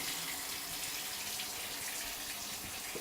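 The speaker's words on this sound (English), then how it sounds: "Now you can feel by hand when the water is going through the pipes." Steady water running from a kitchen sink tap and draining through the pipes beneath a newly installed garbage disposal, a constant close rushing hiss with no talk.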